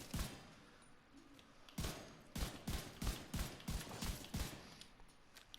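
Video game M1A rifle firing in bursts of sharp, loud, evenly spaced single shots, an opening shot and then a rapid run of about ten cracks with brief gaps, no talking.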